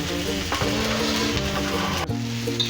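Cut potatoes tumble into a pan of cauliflower already frying in spice, setting off a loud, steady sizzle with stirring scrapes and a brief clatter near the end, no voices.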